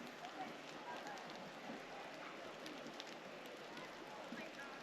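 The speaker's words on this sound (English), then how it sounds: "It's raining, by the way." Steady rain falls outdoors onto trees and leaves overhead, a soft continuous hiss with scattered faint drips, heard quietly at a distance with no talking.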